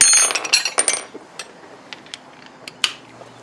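Ratchet and socket metal clinks while a 3/4 inch socket is swapped during a three-point hitch install on a John Deere 318 tractor, a quick cluster of sharp clacks followed by a few sparse, isolated taps.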